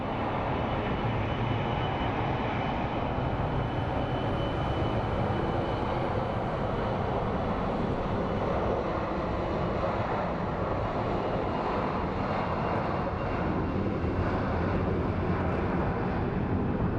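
Airbus A321 airliner departing toward Atlanta from Sky Harbor International Airport in Phoenix, its engines a steady, broad roar that holds loud and continuous throughout, with no voices over it.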